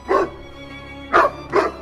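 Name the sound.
dog barking while attacking crows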